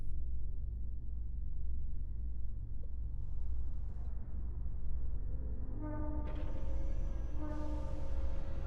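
An elevator ride in the game Mass Effect gives a steady low mechanical rumble and hum, with faint sustained tones rising in toward the end and no speech.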